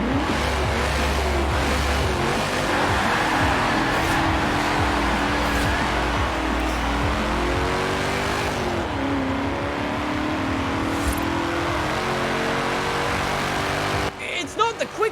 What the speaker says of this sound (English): this is a big old V8 in here